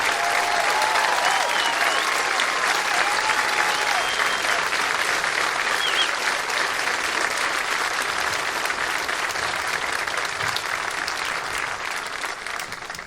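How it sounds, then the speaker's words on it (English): A high school graduation crowd gives veterans a round of applause in 2019: loud, sustained, dense clapping from many people that continues unbroken for over ten seconds. "ask the veterans that are here today to stand up so we could give them a round of applause"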